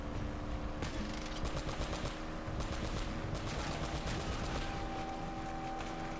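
Rapid gunfire from Uncharted: Drake's Fortune, fired in a cave tunnel at a rock wall: dense, repeated sharp shots in quick bursts over steady game background noise throughout.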